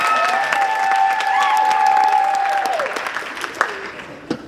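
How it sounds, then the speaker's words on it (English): Applause from a crowd at a high school senior night ceremony, a steady clapping wash filling the hall, with a tonal sound sustained over the first seconds and a few louder claps near the end. "Round of applause."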